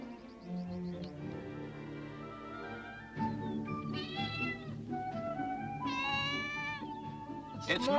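A cat meows repeatedly in a home setting, several drawn-out, rising and falling cries up close, with a low indoor hum beneath and no talking.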